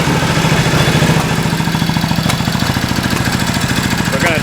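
A hot Triumph motorcycle engine idles steadily on carburettors under adjustment in a garage, a close, loud, even mechanical putter with a rapid regular firing rhythm throughout.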